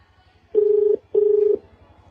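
A telephone number is dialed: two clear, steady keypad tones of equal length, each about half a second, separated by a brief gap, with little else around them.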